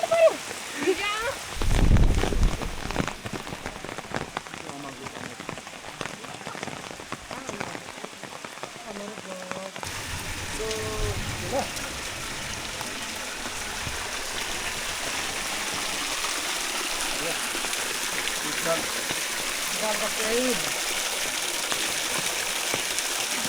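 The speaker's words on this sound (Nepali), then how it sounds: "पानी परेर बिजोक छ" Heavy rain falls on a mountain hiking trail, a dense, steady hiss of drops close by, with voices talking over it near the start.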